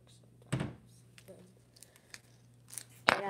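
A packet of hot spicy shrimp instant noodles being opened, with a sharp crinkling tear near the start, faint rustles, then another loud crackling rip, over a low steady hum.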